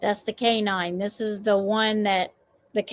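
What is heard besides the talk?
No everyday noise stands out behind the speech.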